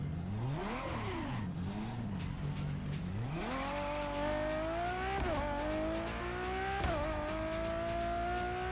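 Racing cars in The Crew Motorfest rev and shift repeatedly, the engine pitch climbing and dropping at each gear change, with tire squeal and a continuous game engine roar.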